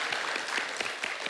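Audience applause on a Kazakh celebrity TV show stage, a dense, steady patter of many hands clapping throughout the short moment, fairly loud and with no talk over it.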